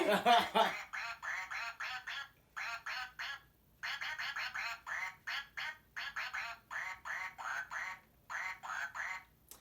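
A duck puppet toy plays a song made of rapid electronic quacks, loud and close, in steady rhythmic bursts with short pauses between phrases.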